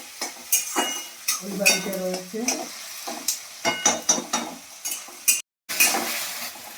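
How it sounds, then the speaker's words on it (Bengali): Onions fry in a wok, a soft sizzle punctuated by rhythmic scrapes and clinks of a spatula stirring against the metal, close and repeated, with a brief spoken phrase partway through. "পেঁয়াজগুলো হালকা করে ভাজা হয়ে গেছে।"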